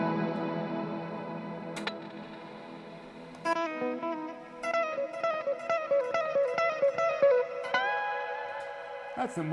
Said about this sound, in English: That's the Plex reverb.